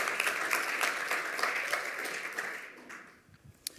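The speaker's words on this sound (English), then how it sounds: "So give him a round of applause for that." Conference audience at a lightning talks session bursts into applause, a brisk run of clapping that stays strong for a few seconds, then thins and tapers off near the end, leaving a last stray clap.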